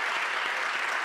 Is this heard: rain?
no